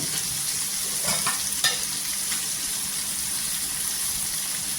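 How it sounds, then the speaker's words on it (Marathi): Garlic and ginger paste sautéing in hot oil for a fish and drumstick curry, a steady close sizzle with faint stirring scrapes and no talk. "इथे तेलावर छान परतून घ्यायचं"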